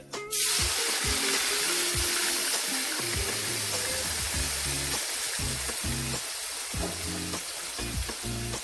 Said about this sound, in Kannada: ಬೇಯಿಸಿಟ್ಟುಕೊಂಡ ಸೋರೆಕಾಯಿಯನ್ನು ಹಾಕುತ್ತಿದ್ದೇನೆ